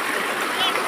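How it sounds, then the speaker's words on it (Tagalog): Strong flowing water at a holiday spot in San Jose, Nueva Ecija gives a steady, close broadband rush that holds even for under a second. "Lakas ng tubig oh."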